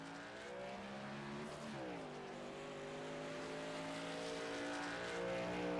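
NASCAR race cars run the Daytona road course, their engines droning and climbing in pitch as they accelerate, with a brief dip as one passes by. The sound is continuous and fairly loud, with no talk.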